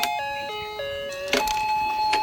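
A small battery-powered mini fishing game toy starts up, giving a bright electronic tune of steady tones that shifts in pitch, with a few brief mechanical clicks and rattles from the spinning pond; close and fairly loud, no talking.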